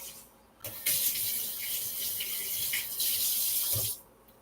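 A kitchen tap runs in a steady gush for about three seconds while something is rinsed off under it, starting and stopping abruptly, with quiet room tone on either side.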